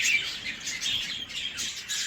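Many small ornamental birds chirp and tweet continuously in a dense, bright chorus in an aviary at an Iraqi bird reserve, steady throughout with no voices.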